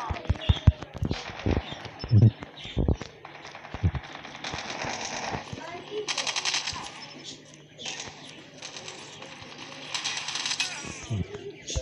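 Gunfire from the Call of Duty Mobile game, with an M4 rifle in play: a run of sharp shots and bursts that comes and goes, with some stretches of dense, rapid fire.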